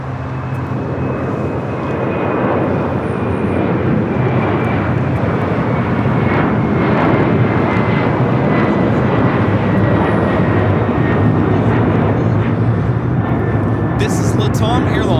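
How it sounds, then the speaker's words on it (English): A LATAM Boeing 767-300ER jet takes off from LAX bound for Lima, a loud, steady engine roar with a thin whine that builds slightly and holds close throughout, with faint voices underneath. "This is Latam Airlines 2479 taking off to Lima, Peru on the 767 300ER."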